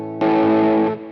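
A single sustained clean electric guitar chord rings out with a shimmering, doubled chorus pedal effect, then cuts off after under a second.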